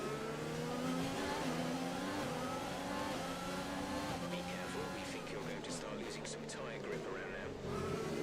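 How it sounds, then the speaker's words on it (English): Formula 1 race car engine in the F1 2020 video game, a steady high revving whine with gear changes running throughout, with a commentator talking over it. "I would love to get past Magnussen, but I've just got too much drag in this car"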